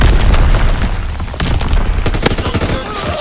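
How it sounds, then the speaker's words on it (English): Loud, dense booming blasts and crackling detonations from mortar fire in Call of Duty: WWII, a continuous barrage of heavy impacts and bursts with scattered sharp pops over the full stretch. "Enemy mortar fire incoming."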